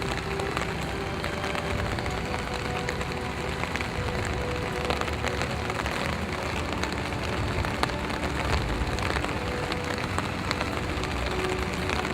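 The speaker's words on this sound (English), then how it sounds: "It seems kind of oddly appropriate that it should be raining here today" Steady rain falls across an outdoor scene, a dense, even hiss of drops striking surfaces that holds unbroken from start to finish with no voices over it.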